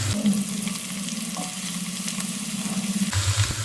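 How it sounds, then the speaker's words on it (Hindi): Ginger and garlic sizzle steadily in hot oil with golden-brown onions for matar pulao, a continuous close frying crackle with a few stirring scrapes and no talk. "अभी यहाँ पे आके अदरक और लहसुन ये इसमें डाल देंगे, इसकी थोड़ी सी भुनाई कर लेते हैं"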